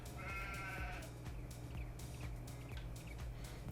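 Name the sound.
sheep bleating in Farming Simulator 22 video game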